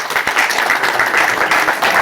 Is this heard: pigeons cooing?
no